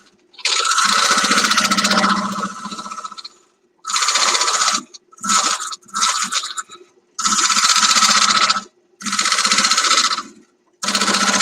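A wood lathe spins a workpiece in loud, close bursts of whirring and rubbing. Several runs of two seconds or less are separated by short pauses.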